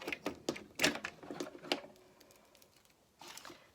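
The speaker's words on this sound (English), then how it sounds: "So I'm going to use my Tear and Tape adhesive again." Tear and Tape adhesive runner pressed along paper card flaps, a series of sharp close taps and tearing clicks in quick succession, then a quieter stretch and another brief burst.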